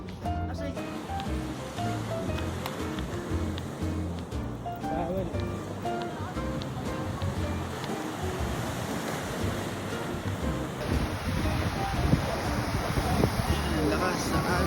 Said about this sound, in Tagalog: Lakas sa alon.